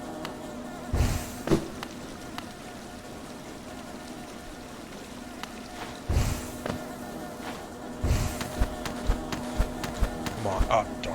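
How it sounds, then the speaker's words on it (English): Loud, steady insect buzzing fills an area of the Hollow Knight video game, a continuous drone broken by a few sharp thuds and clicks of gameplay. "There's certainly a loud buzzing sound in this area."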